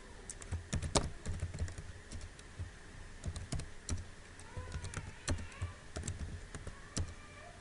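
Someone types on a computer keyboard, giving quiet, irregular bursts of close key clicks and taps with short pauses between them and no voices.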